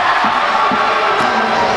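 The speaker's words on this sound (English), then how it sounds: "As you can hear, the crowd is going crazy." Loud, dense crowd roar fills a high school basketball gym in a Lamphere vs Lutheran Northwest game, steady and continuous throughout with scattered shouts rising from the stands.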